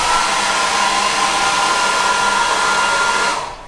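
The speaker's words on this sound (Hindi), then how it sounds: "वो आई मीन हेयर ड्रायर" A hotel hair dryer blows loudly and steadily at close range, then its rushing air tapers off sharply as it is switched off at the end, with no talking.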